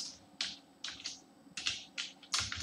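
Fingers typing code on a computer keyboard, a quiet close series of irregular key clicks in short bursts with brief pauses between.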